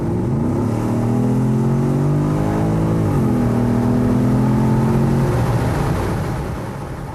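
A Porsche Cayenne GTS engine in sport mode revs and holds a steady, throaty drone with rising and falling pitch, loud and close, easing off near the end.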